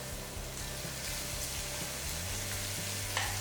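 Finely chopped garlic frying in oil over medium heat for Burmese atho, a soft, steady sizzle close by with occasional light stirring clicks and no talk.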